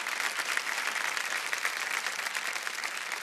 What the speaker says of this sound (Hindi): एक बार जोरदार तालियां बज जाए इनके लिए।